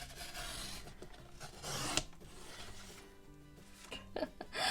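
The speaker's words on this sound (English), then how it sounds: "It's starting to sound like a guitar more than a trimmer." A malfunctioning paper trimmer makes a dry, steady rasping and scraping, like a blade grinding roughly through paper, with an odd guitar-like pitched ringing creeping in toward the end.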